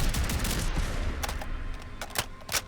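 Rapid gunfire from a Riveter Omni .410 weapon mod in Fallout 4, several sharp shots in quick succession over a low rumbling game background.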